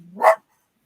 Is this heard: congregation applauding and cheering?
no